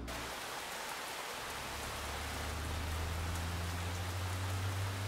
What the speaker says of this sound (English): Thank goodness we're out of the rain.